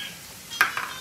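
Garlic, mushrooms and kimchi sizzle on a hot grill, a steady hiss with a sharp scrape or stir near the middle of the brief moment.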